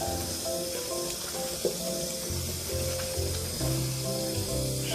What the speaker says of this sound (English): And I give this a little rinse.